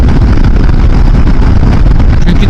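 A Yamaha Xmax 250 scooter (2017 Bluecore, tuned) drones at high revs close to top speed, a loud, continuous engine roar heavily mixed with buffeting wind noise throughout.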